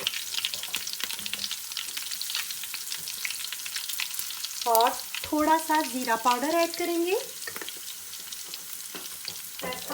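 Spices for a moong dal tadka sizzle and fry in a hot pan with occasional stirring, a steady crackle running beneath a woman's speech.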